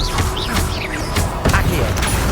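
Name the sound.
Confringo blasting spell cast in video game Hogwarts Legacy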